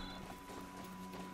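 Footsteps of a mechanical horse in the video game Horizon Zero Dawn: soft, faint clip-clop steps layered over steady mechanical humming tones.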